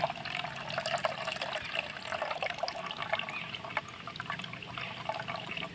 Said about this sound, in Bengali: এবার একটা ছাঁকনির সাহায্যে ছেঁকে নেব